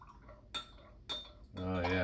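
A spoon stirs honey water in a glass, giving two distinct clinks a moment apart, then a voice starts speaking.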